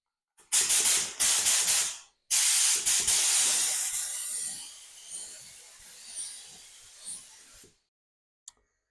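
A paint spray gun spraying car paint onto a spray-out card hisses in two loud bursts, a short one then a longer blast that tapers off into quieter sputters and a brief final puff.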